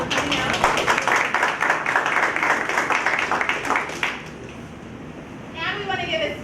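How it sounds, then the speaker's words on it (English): Applause from an audience at a community candidate meeting, acknowledging the media sponsors, loud and sustained for about four seconds before fading, with a few voices and scattered claps after. "Please give them a hand clap for coming out."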